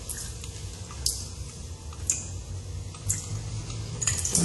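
Water drips from an open pipe after the faucet has been unscrewed with the supply valve shut off: distinct, fairly regular drops about once a second over a low background, with no talking.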